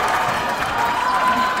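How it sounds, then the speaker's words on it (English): Steady roar of a packed crowd yelling and cheering at a high school volleyball match, continuous and close for the whole moment with no single standout voice. "There's a lot of bodies and a lot of yelling and a lot of cheering going on tonight"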